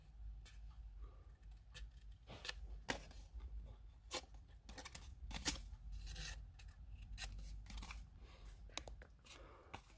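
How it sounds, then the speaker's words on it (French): Scissors snip small edges off a paper birdhouse template in quiet, irregular close-up cuts, with light rustling of the paper between snips. "Et on va couper les petits bords."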